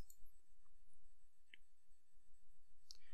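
Faint, sharp computer mouse clicks tick at scattered intervals over a quiet background, each a single brief click with long gaps between them.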